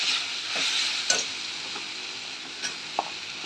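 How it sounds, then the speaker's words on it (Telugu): Okra goes into a frying pan and is stirred, giving a continuous close sizzle with a few sharp scrapes and taps of the utensil against the pan. "బెండకాయ వేస్తున్నాను."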